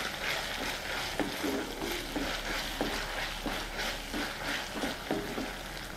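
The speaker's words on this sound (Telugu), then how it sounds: "వీటిని బాగా కలుపుకుందాం. ఇప్పుడు కొద్దిగా కరివేపాకు వేసుకుందాం." Curry leaves frying in oil in a red cabbage mixed vegetable curry: a continuous close sizzle with repeated soft scrapes of a spoon stirring through the pan, no talking.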